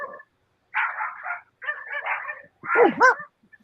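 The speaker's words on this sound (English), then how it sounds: "you hear the dogs?" Dogs barking nearby in a few loud bursts separated by short pauses, the last bark rising into a yelping pitch.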